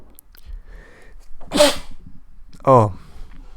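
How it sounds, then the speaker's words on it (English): A single sharp sneeze bursts out after a quieter wind-up breath, followed by a second short vocal burst, close and loud in a quiet room. "excuse me, I sneezed"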